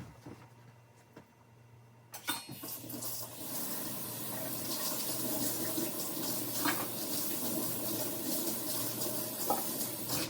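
Tap water runs steadily into a sink while a glass jam jar is rinsed out, a continuous splashing wash that starts abruptly after about two seconds of near quiet and stays moderately loud with no talk.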